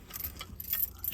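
Van keys jangle close by in a short burst of bright metallic clinks and rattles, with no talking.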